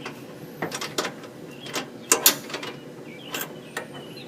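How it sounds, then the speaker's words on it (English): An AMP power step mechanism runs up and down, producing a series of close mechanical clicks, whirs and ratcheting clacks in irregular bursts. "you can watch the step operate up and down"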